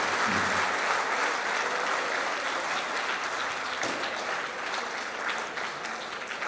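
Sustained, thick applause fills a hall at a Jawahar Navodaya Vidyalaya Begusarai alumni gathering as the audience claps for a teacher, loud and continuous without pause.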